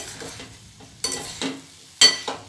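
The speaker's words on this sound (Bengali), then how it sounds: "পনিরের সাথে আলুটা আবারও একটু কষিয়ে নেব।" Potatoes and paneer sauté in a pan, quiet sizzle broken by three distinct scraping stirs of a spatula against the pan, each a short bright rasp.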